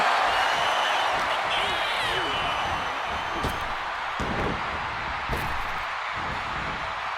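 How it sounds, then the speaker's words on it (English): A packed wrestling arena crowd in the video game WWE 2K26 roars steadily throughout, a dense sustained wall of cheering with a few sharp thuds cutting through. "This packed crowd on their feet."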